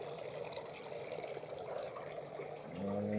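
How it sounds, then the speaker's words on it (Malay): Water trickles and drips into a DIY pond filter tank for a sea bass pond, a soft continuous splashing patter like light rain, fairly faint and close, with no talking. "Nitik-nitik macam air hujan."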